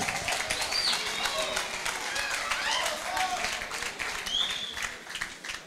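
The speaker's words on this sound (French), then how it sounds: "des acclamations pour l'artiste." A live audience at the Muda Superstar singing competition cheers and applauds the performer, with steady crowd clapping, scattered whistles and shouts rising over the noise for several seconds.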